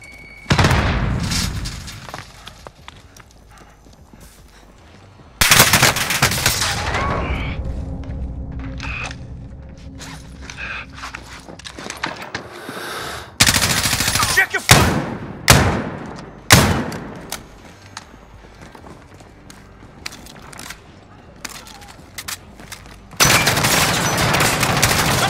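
Call of Duty: Modern Warfare gunfight with bursts of automatic rifle fire, single heavy shots and booming impacts, some close and loud, others quieter and distant, with gaps of lower rumble between.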